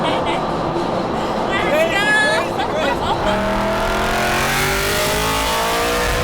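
Cars on Tokyo's Wangan highway at night, engines revving and accelerating as they pass close by, with a rising whine and steady road roar. A voice speaks over part of it.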